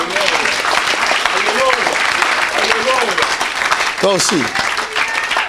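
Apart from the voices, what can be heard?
congregation applauding and cheering the Lord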